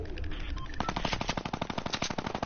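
Rapid automatic gunfire in an online shooter video game, a fast steady rattle of close, loud shots bursting in after a brief lead-in and continuing without pause.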